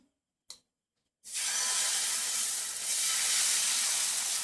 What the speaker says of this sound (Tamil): நம்ம இப்போது கத்திரிக்காய் ஏற்ற தோசையை ஊற்றிக்கலாம்